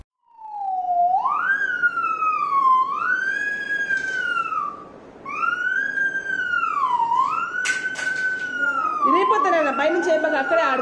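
A small boy imitates an ambulance or police car siren with his voice, several rising and falling wails in a row that stay loud and close, with a short break midway and a jumble of other voices near the end.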